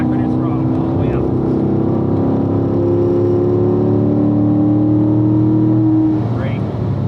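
Race car engine accelerating down a hill on a track lap at a driving school, a loud sustained roaring drone with a steady rising whine heard from inside the car.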